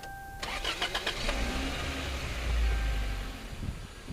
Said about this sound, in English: we're going to go ahead and start the live car and let it run for a few minutes